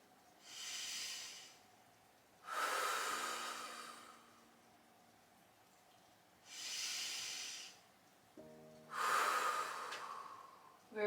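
Slow, deep breaths during a gentle spine-mobilizing yoga exercise, four long airy hisses of inhale and exhale in a steady rhythm, close and clear with no talking.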